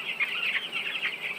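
Young chicks in a poultry shed chirp and cluck continuously as feed is poured for them, a steady chorus of high peeping close by with no talking.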